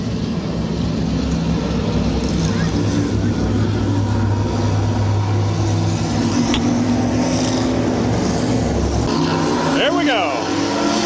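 Race cars roll in a pack at a dirt speedway ahead of a heat race, a steady loud engine drone filling the track, while an announcer talks over it throughout.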